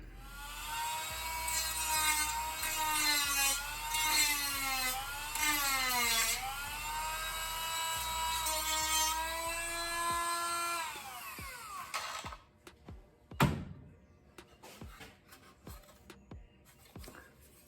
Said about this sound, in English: I just need to grind that off right there and grind that off and drill the hole back in there